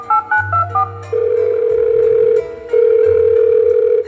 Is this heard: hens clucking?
no